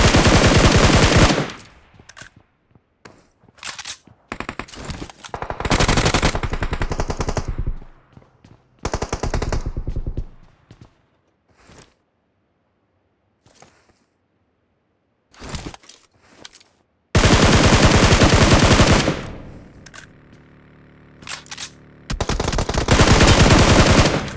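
Loud bursts of machine gun fire from the video game PUBG, several long automatic volleys separated by short gaps and single shots, close and dominant with no talk.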